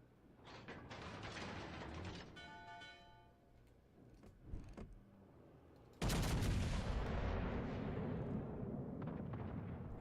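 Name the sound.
naval front guns firing in World of Warships Legends video game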